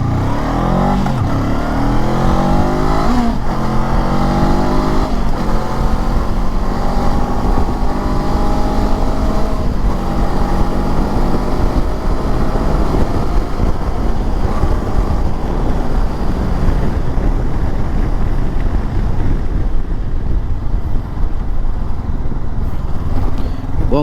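A 2023 Honda CB 500 X motorcycle accelerates hard from a standing start, its engine climbing through several gears with rising revs and brief dips at each shift, loud and steady, with wind noise building over the whole run.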